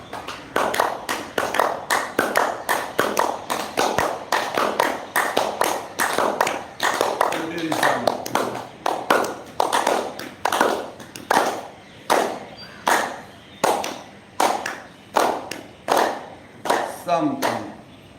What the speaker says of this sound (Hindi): हथेली में गड्ढा, संपुट का आकार। गोलाकार घुमाते हुए ताली बजाएं।